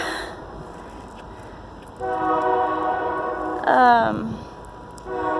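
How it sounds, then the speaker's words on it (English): A train rumbles past at a distance, its horn sounding in sustained blasts with a sharp pitch-bending toot in the middle. "There's a train over there."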